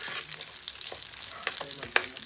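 Dried fish frying in hot oil in a home kitchen, a steady close crackle with a few louder pops and spits standing out, no talking.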